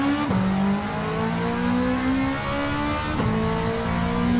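A Toyota race car engine in Gran Turismo 7 revs hard and steadily, climbing in pitch with two quick gear shifts, loud and close with no talk.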